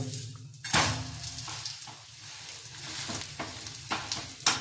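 Sandwiches covered in omelette toast in a hot pan, giving a steady, close sizzle of frying with a few louder crackles and occasional stirring scrapes, with no one talking.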